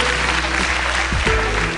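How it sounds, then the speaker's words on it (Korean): Applause at a university award ceremony for a literature contest winner, continuous clapping over a loud low hum and background music tones. "많은 박수 부탁드립니다."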